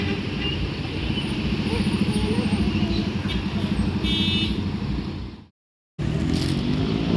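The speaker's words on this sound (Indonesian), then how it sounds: "Nah, ini ada unit ketiga dari PO ANS dari arah Padang Panjang yang akan menuju Jakarta juga pada hari ini." PO ANS intercity bus heading from Padang Panjang toward Jakarta, a steady loud engine rumble and road roar passing close by, continuous for several seconds before a brief cut of silence, then resuming.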